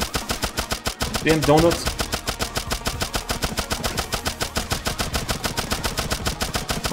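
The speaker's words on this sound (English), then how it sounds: "I got shot." Rapid, steady machine-gun fire from a boss battle in the game Turnip Boy Robs a Bank, loud and relentless throughout, with someone briefly talking over it.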